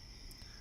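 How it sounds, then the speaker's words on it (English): Crickets chirp faintly in the background as a steady high trill, quiet and distant, with nothing else prominent. "we have the scary crickets in the background that kind of keep everything nice"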